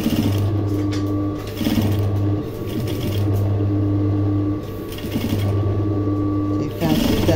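A sewing machine stitches a princess dart bustier seam in several steady, humming runs, each a few seconds long and separated by short stops, loud and close, with a voice speaking over it at times.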